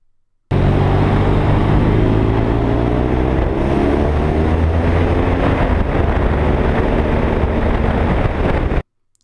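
A BMW RnineT Scrambler motorcycle rides along local roads, its engine droning steadily and loudly with shifting revs under heavy wind rush, continuous for about eight seconds before cutting off.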